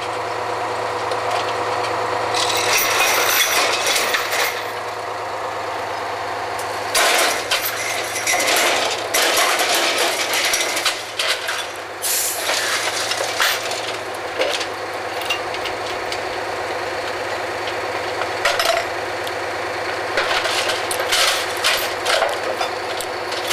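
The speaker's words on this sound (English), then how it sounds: "The Drawworks is powered by a diesel engine back behind." Diesel engine driving the drawworks on a drilling rig at a well site, a steady loud rumbling drone throughout with intermittent clanking mechanical bursts and metallic knocks on top.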